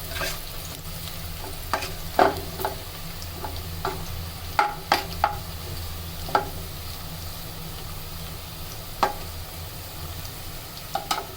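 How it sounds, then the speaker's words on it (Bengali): Onions frying with bay leaf, cardamom and cinnamon for a beef bhuna with potatoes, a steady low sizzle with scattered sharp clicks and taps of a spoon against the pan, close and unaccompanied by voices. "এখন আমরা এতে দিয়ে দিলাম তেজপাতা, এলাচ এবং দারচিনি। এগুলোকে পেঁয়াজের সাথে অল্প একটু ভেজে নেব।"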